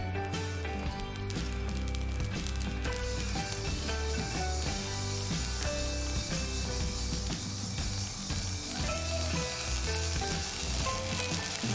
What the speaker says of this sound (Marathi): लाई बघा छान मस्त फुटते, पांढरी शुभ्र